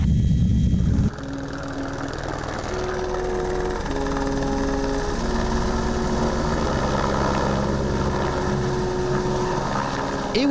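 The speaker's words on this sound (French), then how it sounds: "je suis monté en hélicoptère pour cette inauguration" A helicopter carries a passenger up into the Swiss Alps near the Arpitetta hut for a hut inauguration, its steady droning engine and rotor loud and close throughout, with a deep low rumble and sustained tonal hum.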